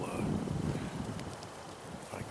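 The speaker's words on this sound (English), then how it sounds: "Got a wind straight in my face here." Steady wind buffeting the microphone, a low rumbling roar with gusty texture throughout, no voices.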